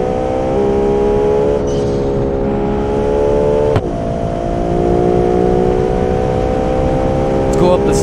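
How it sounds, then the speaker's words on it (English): A twin-turbo sports car in BeamNG revs and holds a steady engine note, with a brief sharp shift midway and a voice talking over it throughout. "Oh, listen to that turbo."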